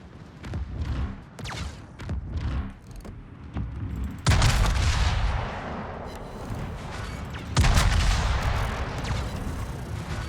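Torpedo launches from a warship in World of Warships come as a series of heavy booming thumps, with two especially loud, sharp launch blasts followed by a lingering rushing roar, amid quieter game effects.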